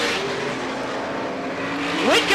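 Oval-track race cars at Star Speedway roar along the back straight in a dense, steady engine blare, with a rising whine near the end as one car sweeps closer.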